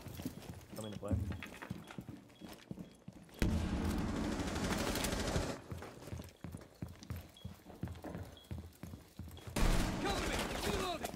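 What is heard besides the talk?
SMG-11 gunfire from the video game Rainbow Six Siege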